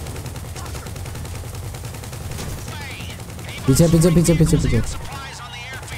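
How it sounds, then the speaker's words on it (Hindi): A fully automatic machine gun in GTA Online during a Doomsday Heist fight fires one rapid, loud burst of about a second. Someone talks throughout, and other gunfire sounds faintly in the background. "इस गन बहुत तगड़ी चल रही है भाई ये अबे फुल्ली मशीन गन है"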